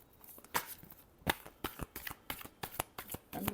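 Tarot cards being shuffled by hand, a string of soft close riffling and slapping sounds in an uneven rhythm, quiet and alone.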